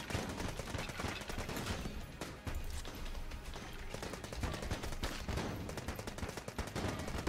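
Dense, continuous rapid-fire machine pistol gunfire from the video game Enter the Gungeon, with bursts of shots running without pause at a steady loud level and no talking.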